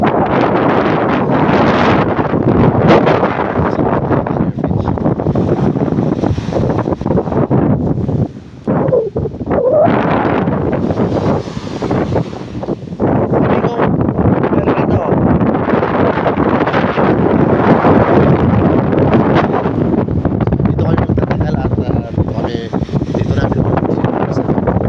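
Strong wind at a seaside spot batters the microphone in a loud, continuous roar that swells and gusts with a brief lull partway, while voices talk faintly beneath it.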